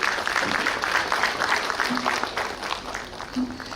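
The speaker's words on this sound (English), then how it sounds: "Please, can we give him another round of applause?" A conference audience applauds after a speech, sustained dense clapping through the whole stretch with a few brief voices under it.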